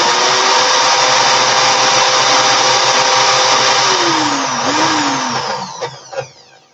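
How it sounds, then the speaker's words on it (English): An electric drill runs in reverse, winding fine 36 gauge wire onto a core, with a loud, steady close whine that sags in pitch near the end and then winds down with a few rattling knocks. "I'm going to hold it and put my drill in reverse"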